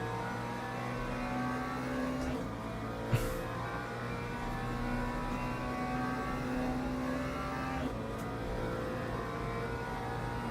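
Sustained race car engine drone in the Le Mans Ultimate racing game, holding a steady, moderately loud pitch with a couple of sharp brief clicks, and no talking over it.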